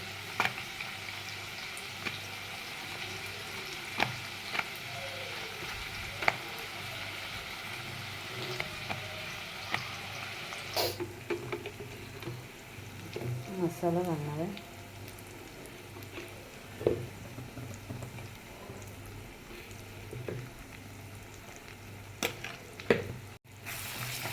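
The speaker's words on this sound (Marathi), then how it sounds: "वांग जरा थोडं तेलात भाजून घेते" Eggplant fries in hot oil with a soft, steady sizzle, dotted with occasional pops and brief clinks as the pieces are moved around.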